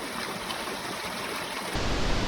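A clear mountain stream on the Kedarnath trail in the Himalayas rushes steadily, filling the clip with a constant, loud, hissing wash of water that grows slightly fuller near the end.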